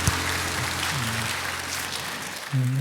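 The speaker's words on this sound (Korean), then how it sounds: "우리 서로에게 축복의 박수를 나누겠습니다" A church congregation claps steadily through a Sunday worship service, a dense wash of applause with faint tones and voices drifting underneath, then a brief swell of voices near the end.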